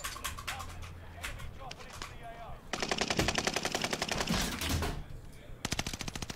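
Assault rifle fire in Call of Duty Warzone, heard as rapid automatic bursts with sharp repeated cracks. A short burst comes first, then a long sustained stream of shots and a final burst, with faint game ambience between them.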